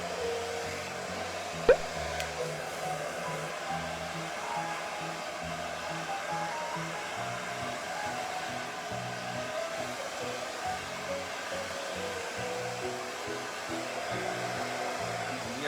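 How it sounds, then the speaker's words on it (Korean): A hair dryer blows steadily and continuously at close range while drying a man's permed hair, a constant whooshing roar with a brief click near the start. "그냥 이렇게 드라이기로만 올려줘도 잘 넘어가게 해놨거든요"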